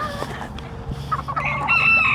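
Rooster crowing among clucking chickens in a breeding pen, one crow rising clearly near the end over a steady background of hens and other fowl close by.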